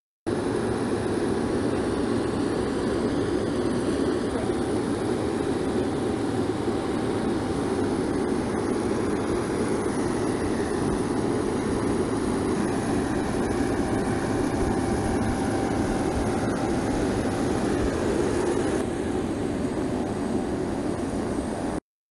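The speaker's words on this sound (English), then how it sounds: "The AWACS aircraft can monitor and detect aircraft hundreds of kilometers away" Steady, loud jet-engine roar from an E-3A AWACS surveillance aircraft, a constant broadband drone that holds without a break for the whole stretch with no talking.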